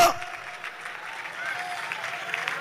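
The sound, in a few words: church congregation applauding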